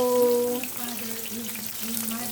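Tawilis, a small freshwater sardine, fries in hot oil with a steady, close crackling sizzle and scattered pops, while low tones hum faintly beneath it.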